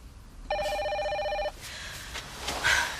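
An old-style telephone bell rings once in one sustained, loud burst of about a second indoors, followed by faint room noise and small movements.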